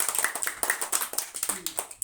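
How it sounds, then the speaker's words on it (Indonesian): Children in a classroom clap their hands in a quick, uneven burst of sharp claps lasting a couple of seconds, close and fairly loud. "Ya, tepuk tangan."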